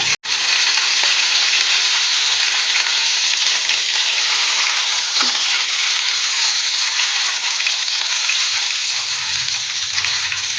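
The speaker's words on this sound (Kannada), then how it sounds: "ಮೀನು ಒಂದು ಬದಿ ಹೊಂದಿದೆ ಇನ್ನೊಂದು ಬದಿನ ಚಂದ ತಿರುಗಿಸಿ ಫ್ರೈ ಮಾಡ್ಕೊಳ್ಳೋಣ" Mackerel fish frying in green masala in a pan, a loud steady sizzle that runs unbroken and close throughout, with a faint clink near the end.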